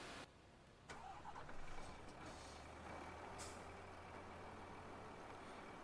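A truck engine cranks and starts in Farming Simulator 15, then settles into a steady, low idling rumble, with a short hiss like an air brake release partway through and no talking.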